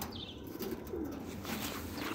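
Pigeons kept for sale cooing softly in a loft, low throaty coos repeating over a steady background murmur of birds.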